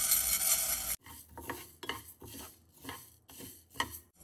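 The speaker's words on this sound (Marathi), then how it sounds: "आपण आता धने भाजून घेऊया।" Coriander seeds dry roast in a pan, stirred in repeated scraping strokes that rattle the seeds against the metal, close and moderately loud after a brief hissy burst at the start.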